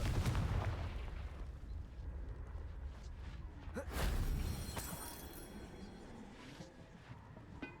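Rocks bursting under the Confringo blasting spell in Hogwarts Legacy, with a rumbling, crackling blast near the start and another heavy impact midway that trails off into scattered debris.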